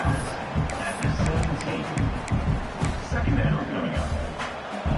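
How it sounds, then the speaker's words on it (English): Loud, steady roar of a college football stadium crowd cheering and clamoring, dense and continuous throughout, with some nearby voices and scattered sharp noises mixed into the din. "this crowd is turning it up a notch"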